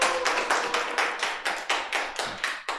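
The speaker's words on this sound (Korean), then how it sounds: "박수 한번 주시죠." An audience at a church missionary evening claps in a brisk, even rhythm, about a dozen sharp beats, fairly close and with no voices over them.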